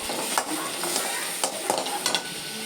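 Ingredients for a Tamil meen kulambu, a fish curry, sautéed in a pan, with a continuous sizzle of frying broken up by regular scraping stirs of a spoon against the pan, close up.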